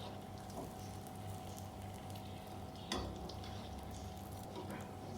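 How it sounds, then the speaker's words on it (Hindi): Breaded snacks dipped in flour and coated in breadcrumbs fry in a pan with a steady low sizzle, and one brief louder clatter near the middle, close by with no talk. "अब दूसरी साइड से फ्राई करूँगी, फिर इसे सीधा कर दूँगी।"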